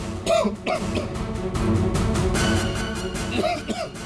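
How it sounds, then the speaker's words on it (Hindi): A person coughs a few times at the start and again at the end, with background murmuring and room noise in between. "साहब बुखार है और थोड़ी खांसी भी।"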